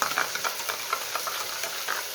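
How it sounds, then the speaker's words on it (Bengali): Spiced yogurt being whisked in a bowl for doi katla, a Bengali rui fish curry, with quick, light repeated taps and scrapes in a steady rhythm, close and fairly soft. "দইটা আগে থেকেই ফেটিয়ে রেখেছিলাম, মশলা দিয়ে আরেকটু ভালো করে ফেটাতে হবে।"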